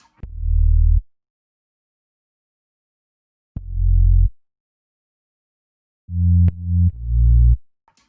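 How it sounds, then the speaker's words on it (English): Deep, short sub bass notes from two sine-wave oscillators thump in a sparse pattern, with long silences between them and a quick pair near the end. "Next, I added this sub bass to fill up the low end."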